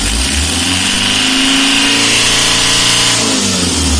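A hot Mitsubishi L300 engine revs hard and strains, a loud, rough, continuous mid-pitched drone that rises slightly and then eases, heard up close with no talk.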